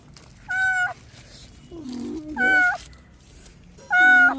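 An injured cat, hit by a vehicle, meows three times with clear pauses between calls, loud and close, over a low background hum.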